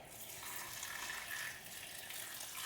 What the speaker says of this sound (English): what I'm gonna do is add a little bit of water